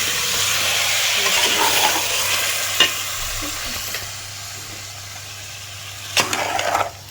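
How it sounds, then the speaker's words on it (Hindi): Spiced sour potatoes fry in oil with a masala paste over a medium-high flame, giving a steady close hiss and sizzle with occasional knocks of a stirring spoon against the pan. "और ये डाल के इसको अच्छी तरह भूनेंगे।"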